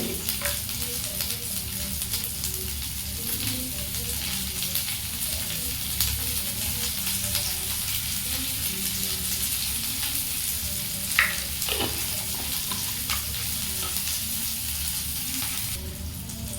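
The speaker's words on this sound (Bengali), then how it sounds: "আমার উচ্ছেগুলো ভাজা কমপ্লিট" Slices of bitter gourd fry in oil with a little turmeric, making a continuous even sizzle throughout, with a couple of faint utensil knocks and no talking.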